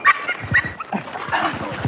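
A dog gives short yips and barks mixed with whimpering, close and loud, in a tense outdoor scene.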